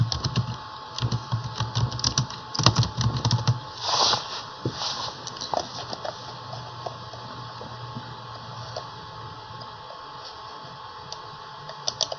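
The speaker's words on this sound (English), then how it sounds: "As I'm typing in." Soft keyboard typing in quick bursts of clicks, busier at first and thinning out to scattered taps, over a faint steady hum.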